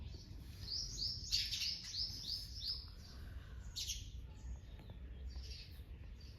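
Sparrows bathing in a puddle chirp in a quick series of bright, high tweets, then scattered calls follow faintly against a quiet village outdoor background.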